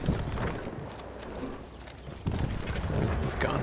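A horse's hooves clip-clop in a rapid rhythm in Battlefield 1, over ambient game noise, growing louder near the end.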